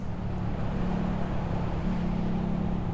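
A CFMoto 700 CL-X motorcycle cruises on cruise control, heard as a steady low engine drone mixed with constant wind and road noise, even and unbroken throughout.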